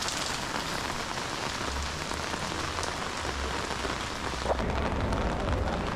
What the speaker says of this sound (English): You just need to put up with the rain